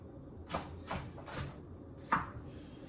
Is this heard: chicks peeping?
no